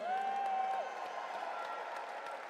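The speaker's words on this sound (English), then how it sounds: "I want to see or hear a huge round of applause for all our incredible Lifetime Achievers." A round of applause for Lifetime Achievers at an awards ceremony, dense clapping from a large audience with a faint tonal whistle or cheer near the start.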